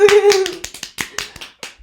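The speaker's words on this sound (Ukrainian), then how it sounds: "аплодисменти" Sparse hand claps at the close of a studio podcast, about seven sharp, uneven claps following a brief vocal exclamation, close and fairly loud with quiet gaps between them.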